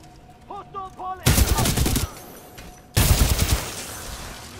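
Gunfire from a weapon in the video game Titanfall 2: a first burst of rapid shots after a few soft tones, a brief lull, then a second loud rapid burst with a trailing echo.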